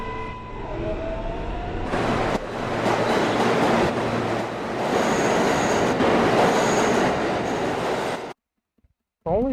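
An R143 subway train runs loudly through a tunnel, a roaring rush of wheels and rail noise with squealing tones, ending abruptly in near silence and a brief rising whine.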